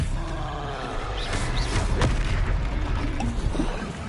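The Expelliarmus spell is cast in the Hogwarts Legacy video game, a loud, continuous roaring blast with deep booming rumble and crackling bursts running through the whole stretch.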